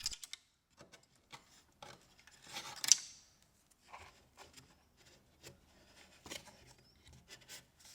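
Soft snips and rustles as cable ties are cut on the packaging of a 20 watt laser module for an Ortur R2 laser engraver. The sounds are quiet, close and intermittent, with one sharper click partway through.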